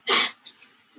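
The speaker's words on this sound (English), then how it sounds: "I think I have a sneeze coming on" One sharp, close human sneeze bursts out at once, followed by a brief breathy exhale and a faint sniff.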